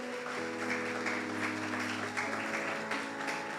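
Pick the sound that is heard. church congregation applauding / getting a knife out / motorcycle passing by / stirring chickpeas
church congregation applauding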